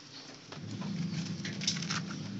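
Rain patters steadily on a surface nearby, a dense soft rustle with a few louder drops, no voices.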